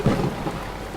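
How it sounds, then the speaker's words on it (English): Rain falling in a night storm, big drops splashing through leaves, heard as a dense, low rumbling wash of drops with a thundery undertone, steady and fairly loud throughout the brief moment. "Big drops of rain began to fall and splash through the leaves around her."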